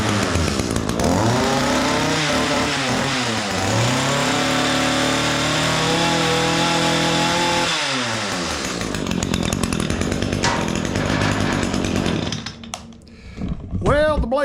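The engine of an Echo SHC225S hedge trimmer, whose blades have quit moving, roars up close, revving up and down and holding a loud steady run before cutting back near the end.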